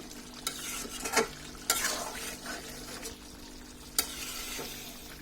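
Turnip and chicken skin curry with green chilies is stirred in a pan. Scraping spoon strokes come at uneven intervals over a soft, steady sizzle.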